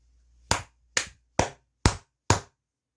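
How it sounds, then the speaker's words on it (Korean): Five loud, sharp hand claps, evenly spaced about half a second apart, close and isolated against silence. "일단 크게 박수 한번 치고 가도록 하겠습니다."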